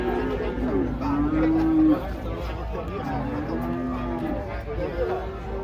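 Cattle being unloaded from a truck give several drawn-out moos, a loud tonal low then another two later, over a busy background of people talking nearby.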